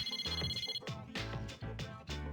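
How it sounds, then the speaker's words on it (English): A phone rings with an incoming call in the video game Persona 3 Portable, a repeating electronic ring tone in short pulsing bursts, clear and alone. "Mitsuru received an incoming call on her phone."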